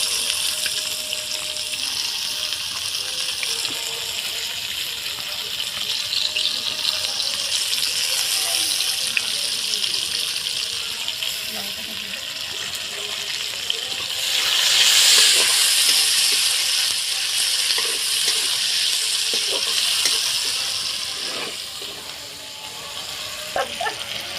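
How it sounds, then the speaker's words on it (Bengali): Onion sizzles in hot oil while cooking prawn Hakka noodles, a steady bright hiss and crackle that swells briefly louder midway, then settles back to an even fry. "তেলটা গরম হয়ে গেছে এবার তেল পেঁয়াজটা দিয়ে দিলাম"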